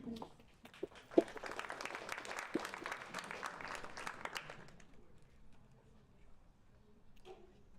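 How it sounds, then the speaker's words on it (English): A university startup class audience applauds after a pitch, a burst of many hands clapping for several seconds before fading into quiet room sound, with a voice faintly heard. "after the first pitch, we do want a big clap"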